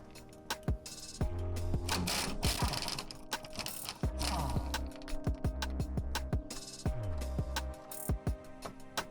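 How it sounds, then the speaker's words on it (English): A lower strut bolt is being removed on a VW B5.5 Passat, with rapid ratchet clicks and metallic tool rattles in repeated bursts, close and fairly quiet. "I'm going to start by removing this lower strut bolt."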